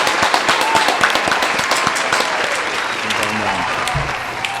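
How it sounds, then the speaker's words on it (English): A group of people applaud together in a dense, sustained patter of claps, with a voice briefly speaking toward the end. "Man, cut that and do a real clap"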